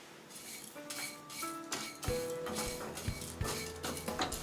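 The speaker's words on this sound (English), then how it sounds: "Grind them over very low heat, stirring for 3 minutes" Whole spices dry-roast over very low heat in a pan: cumin seeds, black peppercorns, a cinnamon stick and a nutmeg, stirred with a utensil, giving irregular close scraping strokes, rattles and light clinks against the metal, with music underneath.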